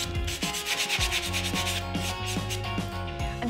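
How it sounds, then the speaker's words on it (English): Rapid, rhythmic scraping of sandpaper rubbed back and forth on a painted wooden planter, close and fairly loud, with no talking. "I'm sanding my planter now just to give it a little more of that shabby chic look."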